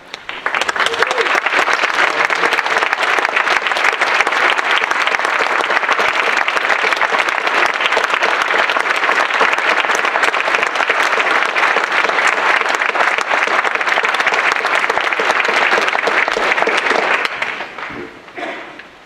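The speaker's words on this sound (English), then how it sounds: "Would those recipients please rise to be recognized with applause?" Sustained applause from a large crowd, steady and loud for about seventeen seconds before tapering off abruptly at the end, at an honors convocation.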